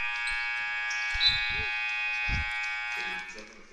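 A basketball quarter-ending buzzer at a high school girls' game sounds as a long, loud, steady electronic drone lasting over three seconds, with a few thumps and crowd noise beneath.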